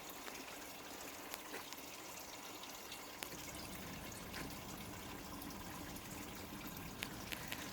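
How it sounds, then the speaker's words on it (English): Water splurts from pump tubes into the beds of a flood and drain system, a continuous wet hiss and trickle with a few small drips and splashes, steady and fairly close, no voices. "Filling into these and splurting water into each one."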